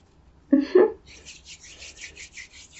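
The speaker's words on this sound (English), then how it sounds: "Now I'm just kind of rubbing the outside of your aura with the lemon juice." Hands rubbing lemon juice in a close, quiet ASMR healing ritual: two soft, brief rubbing bursts, then a faint, steady, rhythmic swishing that continues to the end, with no voice.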